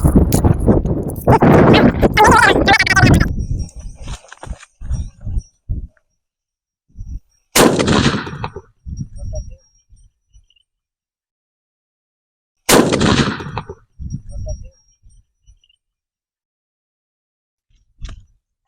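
Taped firecrackers burst against a coconut outdoors, three sharp loud bangs spaced several seconds apart, each trailing into crackles and rustling, with people talking before the first blast.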